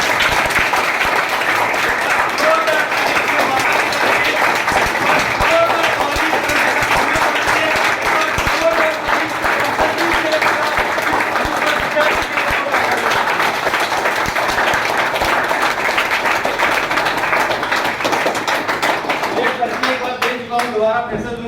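Loud, sustained audience applause for a damru player at a DTM Force speech event, dense clapping running steadily with a crowd murmur before easing slightly near the end.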